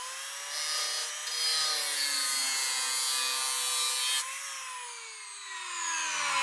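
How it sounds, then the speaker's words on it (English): A metal tab being cut off during a 4th Gen Toyota 4Runner bumper install, a steady harsh grinding cut with a pitch that slides downward, running continuously and loud with no talk. "We're just gonna choose to cut it off."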